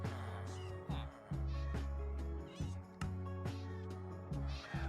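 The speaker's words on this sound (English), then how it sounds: "Now let me change the audio so we don't keep hearing the cats dying" Minecraft cats meowing repeatedly as they die in an iron farm, a series of overlapping synthetic meows in a steady rhythmic loop, clear and fairly close, with no talking over them.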